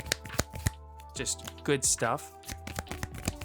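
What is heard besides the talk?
hand shuffling cards in Dragon Shield sleeves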